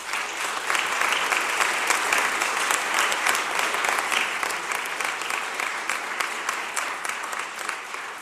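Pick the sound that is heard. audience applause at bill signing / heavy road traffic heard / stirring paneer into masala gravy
audience applause at bill signing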